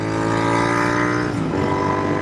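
Royal Enfield Continental GT 650 motorcycle with aftermarket S&S exhaust pipes, its engine running loud and close, a steady rumbling note that shifts briefly as the revs change partway through.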